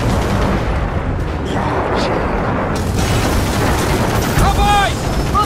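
Bombs go off in Gears of War 4, a dense, continuous roar of rumbling blasts and battle noise that stays loud throughout, with a brief tonal electronic chirp near the end.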